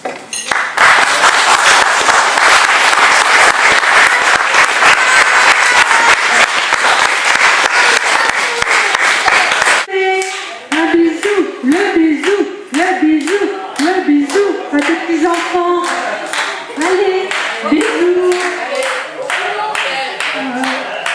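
Applause at a birthday celebration for Pierre: a loud, dense burst of clapping from a crowd for about ten seconds, then it shifts into rhythmic clapping under cheerful voices and singing.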